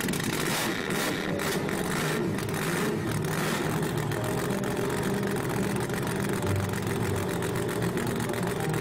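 A cartoon monster truck engine starts with a few sharp bursts, then settles into a steady, rumbling idle that runs loud and close to the end.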